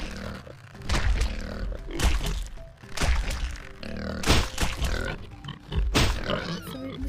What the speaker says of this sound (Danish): En kæmpe gris derovre.